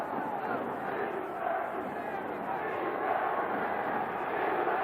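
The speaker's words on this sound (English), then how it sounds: "The crowd now calls for defense." Steady roar of a football stadium crowd at a 1984 USFL game between the Pittsburgh Maulers and New Orleans Breakers, chanting for defense, a dense continuous din filling the whole stretch.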